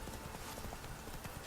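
Roach, the horse in The Witcher 3, trots along with a quick, irregular clip-clop of hooves, moderately near and steady under a soft background bed.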